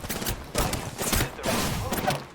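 Rapid bursts of gunfire erupt in the shooter game Apex Legends, several loud, close volleys in quick succession with brief gaps between them and no talking.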